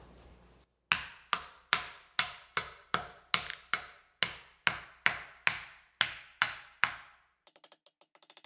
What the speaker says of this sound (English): take your hammer and crush them